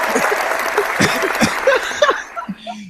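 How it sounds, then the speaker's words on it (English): Clapping for radio show guest Mr. Wombat in a Baltimore studio, light and brief, with people chuckling and talking over it. "give him some clap, man, Mr. Wombat."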